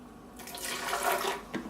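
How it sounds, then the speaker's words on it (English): A cup of water poured over half a cup of Brazil nuts in a processor, giving a brief splashing, rushing gush that swells and then ends with a small final splash. "I'm going to add a cup of water to this"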